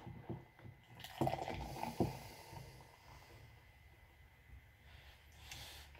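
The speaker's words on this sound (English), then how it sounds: "Some things never change, like my bad pouring." Trøst lager beer poured from a bottle into a glass, a soft, close gurgle and splash with a few bubbly surges, fading to a gentle fizz, with no one talking.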